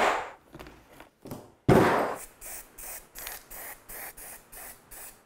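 Short hissing bursts of spray paint coat a drift trike muffler, starting with a few longer sprays and then settling into a regular rhythm of brief even puffs, close and moderately loud, with no talking.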